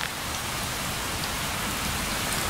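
Steady rain falling outdoors beneath a tree at night, a dense, even hiss of drops pattering without pause, moderately loud and alone with no voices.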